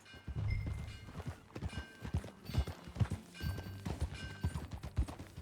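Horse hooves pounding along in Red Dead Redemption 2, a steady, loud run of rhythmic hoofbeats close by with no one talking.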